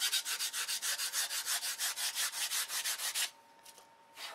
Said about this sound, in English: And that's how fast I sand flaps